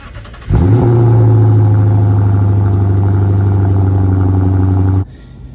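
A Lexus with its muffler deleted but the resonator kept revs hard, its loud, deep exhaust drone rising sharply, holding steady for several seconds and then cutting off abruptly.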